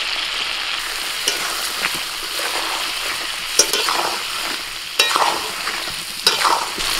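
Potatoes with salt and red chili powder fry in hot oil in a kadai, giving a loud, continuous sizzle with sharp bursts of crackle and scraping as they are tossed about.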